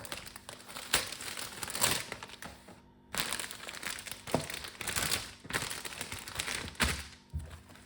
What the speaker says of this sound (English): take the spring roll wrappers out of the bag